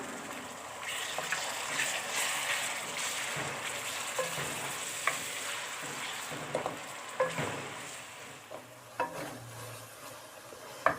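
Onions fry in a pan before chicken goes in for a Chinese-style vegetable dish, a steady close sizzle punctuated by scrapes and clinks of a spoon stirring, with no talking.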